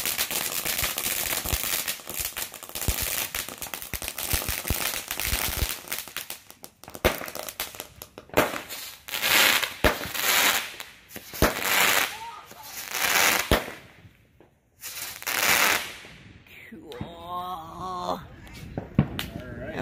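Small consumer fireworks fountain called a cheetah dancing, shooting out balls, gives a long run of loud crackling pops and sharp bangs in dense bursts with brief lulls, alongside people's voices.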